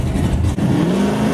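A 1977 Dodge van with a 440 cubic inch big block Mopar engine at a bracket drag race, its engine roaring loud and steady with a brief dip before a rising rev tone.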